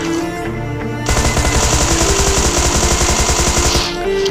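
Automatic gunfire in the battle royale game PUBG: a rapid, loud burst of evenly spaced shots that runs steadily for about three seconds, with quieter game ambience before and after.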